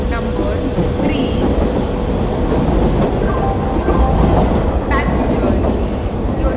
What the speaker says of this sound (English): Train number 1 0 2 0 1. Goods Express is arriving at platform number 3.